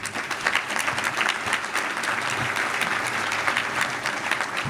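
A crowd at an annual meeting applauds new board members, with steady, dense clapping that holds at an even level for several seconds.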